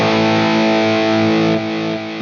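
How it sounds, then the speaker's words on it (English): A guitar played through the space echo delay of a Wampler Catacombs delay/reverb pedal produces a dense, sustained distorted tone with repeating echoes that smear and trail off, loud and alone with no talk. "We got the space echo."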